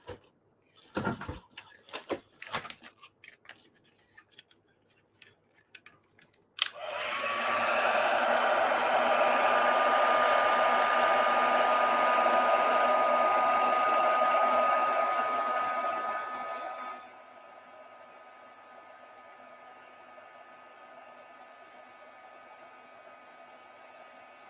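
A crafting heat tool for stamping powers on with a click after some brief tapping and handling noises, then blows hot air as a steady loud whooshing roar for about ten seconds before dropping to a quieter hum.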